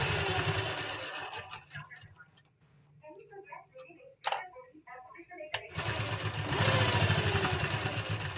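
A sewing machine runs in steady bursts while double-stitching a lined kameez at the shoulder seam, a loud rapid whir that pauses briefly in the middle with faint ticking before resuming; a voice talks over it.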